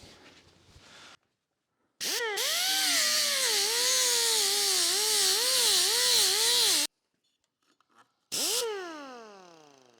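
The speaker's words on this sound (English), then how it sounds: "So I'll just rip it off with the grinder." An angle grinder cutting off excess sheet metal on a custom tailgate, a loud, sustained high whine with a wavering pitch that stops, then one more short burst spinning down.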